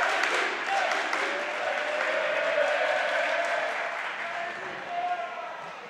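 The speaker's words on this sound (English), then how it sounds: "Tigers crowd gone wild here." A high school girls' basketball crowd at the Coal Bowl erupts for the Tigers, sustained loud cheering and applause that holds steady and slowly tapers, with an announcer's voice faintly underneath.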